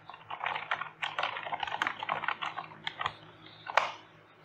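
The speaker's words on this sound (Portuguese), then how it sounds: "esse teclado é meio ruim." Fast typing on a somewhat poor-quality computer keyboard during HTML and CSS coding, a close, continuous patter of clacking keystrokes in uneven bursts with a louder key hit near the end, no speech.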